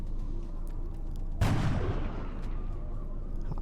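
A single heavy gunshot from the X-COM: Enemy Within game, a loud booming blast that decays over half a second over a steady low background rumble.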